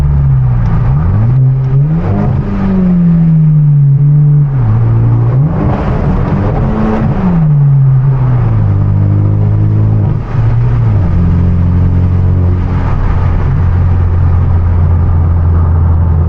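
A manual Hyundai Genesis Coupe drives through empty downtown streets at night, its engine loud and close, rising and falling through several gear changes with revving surges and drops between shifts.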